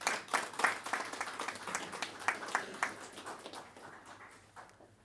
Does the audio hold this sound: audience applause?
yes